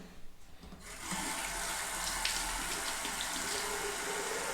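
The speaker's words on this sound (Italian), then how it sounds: "sciacquo la mano perché me la sono riempita di sapone" A hand covered in soap is rinsed under a running tap during a traditional wet shave. After a quiet opening second, a steady, loud gush of water flows close by with no talking.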